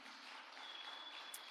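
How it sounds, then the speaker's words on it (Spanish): A church congregation applauds for the Lord, a steady, broad wash of clapping from many hands, fairly quiet and even throughout the short burst. "denle fuerte aplauso al Señor"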